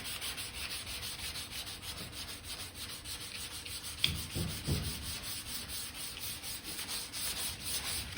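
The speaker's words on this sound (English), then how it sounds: "same stuff, sticky back sandpaper. Still going to go with the block." Hand sanding block with sticky-back sandpaper rubbing over primer on a lead-repaired quarter panel of a 1968 car, a steady continuous scratchy rasp of even strokes with a few heavier scrubs midway, close and alone.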